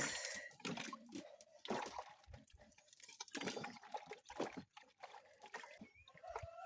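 Vegetables being rinsed by hand to wash off sand, with continuous splashing, sloshing and trickling water close by, broken by irregular bursts of rubbing and clatter.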